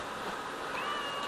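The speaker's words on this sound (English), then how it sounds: "Cat wants something." A cat gives a short meow, faint against a noisy background, with no voices.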